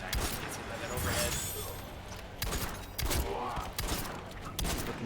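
Rapid bursts of six-shooter revolver gunfire in a fighting video game, loud repeated cracks and impacts clustered over a few seconds amid dense game noise.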